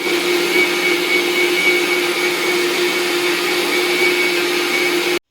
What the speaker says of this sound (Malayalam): വീണ്ടും മിക്സിയിൽ ഒന്ന് അടിച്ചെടുക്കാം